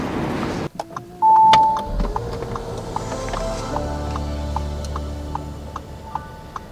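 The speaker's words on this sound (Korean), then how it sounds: "이렇게 시동을 키면은 공조기가 딱 열리면서 나타나요" At engine start in an Audi A8L, the climate control panel opens on its motor: a short electric whir after a click, then a quiet cabin with the engine's low hum and faint regular ticks.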